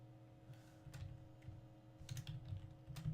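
Computer keyboard typing at a desk while coding a tic-tac-toe program, with irregular bursts of close key clicks over a steady low electrical hum; no talking.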